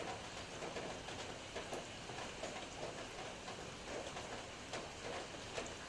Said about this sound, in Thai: วันหยุดวันเสาร์ฝนตกแต่เช้าครับพี่น้อง